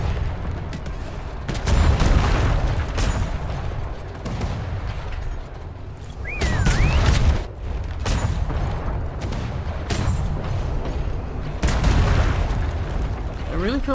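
Heavy booming ship cannon blasts in the video game Atlas go off repeatedly, with rumbling between shots and a brief whistling swoop in the middle, loud and close.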